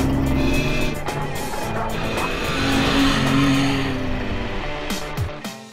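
A Jeep Wrangler JL running with no muffler gives a loud, raw exhaust drone that rises and swells in pitch midway, then drops off sharply near the end.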